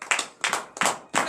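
A congregation at a morning prayer service claps in acclamation, four sharp bursts of handclaps in quick succession, close and fairly loud.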